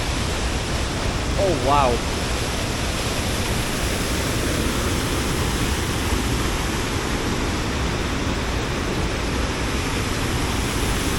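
Heavy water roaring down High Force waterfall, a loud, dense, steady rush filling the whole scene, with a brief exclamation from a person early on.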